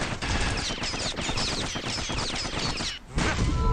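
Continuous rattling gunfire from the action game Bastion, dense rapid shots over a loud busy mix, briefly dropping out near the end before resuming.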